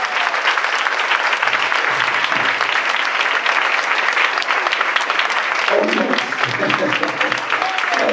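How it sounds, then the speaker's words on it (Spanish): Loud, sustained applause from a church congregation filling the room, continuous clapping throughout with a faint murmur of voices beneath. "dar un aplauso al Señor"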